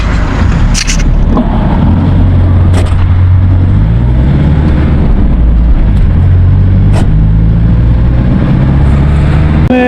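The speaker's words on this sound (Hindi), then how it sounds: "ये छोटी छोटी वैगने टाइप की गाड़ी होती हैं, ये यहाँ पे बसों का काम करती हैं" A small van-type marshrutka minibus serving as a bus in Tajikistan drones steadily at close range, its engine hum and road rumble continuous and loud, with a few brief scrapes and clatters along the way.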